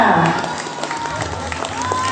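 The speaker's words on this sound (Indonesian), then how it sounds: "Tepuk tangan untuk kalian semuanya." Schoolchildren and staff at an elementary school event clap together, a brief burst of scattered claps mixed with crowd voices and shouts, close and fairly loud.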